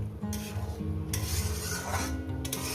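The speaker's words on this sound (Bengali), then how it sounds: "টমেটো আর কাঁচা লঙ্কাটা দিয়ে দিলাম একসঙ্গে কষিয়ে নেব" Tomato and green chilli stir-fried together in a pan for a Bengali fish curry, a steady close sizzle with spatula scraping and rubbing across the pan throughout.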